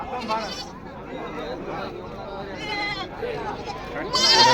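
Goats and sheep bleat repeatedly at a busy outdoor livestock market, several close, loud calls overlapping amid crowd noise and people talking nearby.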